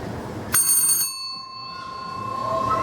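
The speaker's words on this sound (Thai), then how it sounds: "กระดิ่งจะดังหนึ่งครั้ง" A timer bell for a cockfighting arena board rings once, a bright metallic ding with a lingering ringing tone that fades over about a second, close and clear over faint background noise.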